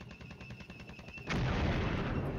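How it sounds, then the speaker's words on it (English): An artillery strike lands in a war strategy video game. A rapid stuttering of distant thumps gives way to a sudden loud, sustained roar of impacts and rumble. "There's another artillery strike."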